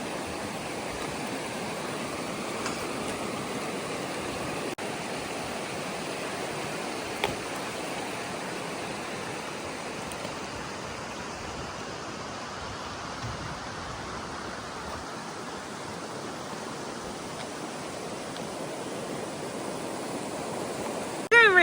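Steady rush of a snow-melt river in the French Alps, a broad, even wash of flowing water that continues unbroken and fairly close for the whole stretch, with a brief bump right at the end.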